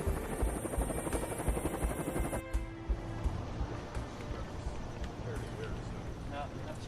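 Marine One, the US presidential helicopter, on a lift from JFK airport to downtown Manhattan: a steady, dense rotor and engine roar throughout, loud and continuous, with a tonal whine in the first seconds.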